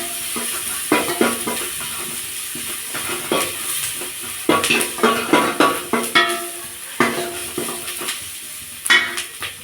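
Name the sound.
small onions sautéing in a pan for fish curry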